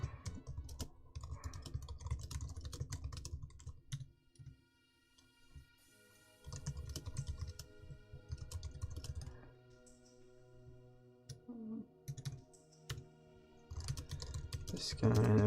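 Close computer keyboard typing in quick bursts of key clicks, broken by short pauses, while someone writes a short story in a quiet room.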